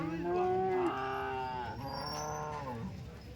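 Cattle lowing at the Malegaon cow market, a few long, loud moos close by following one another with no talk over them.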